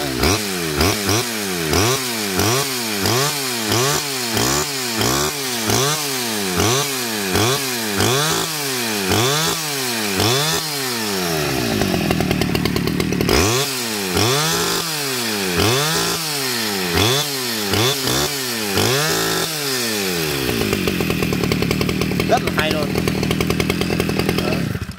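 A Stihl 011 AV 41cc chainsaw revs again and again in a steady pulsing rhythm of rising and falling engine bursts, loud and close, with someone talking over it and a pause midway before the revving resumes.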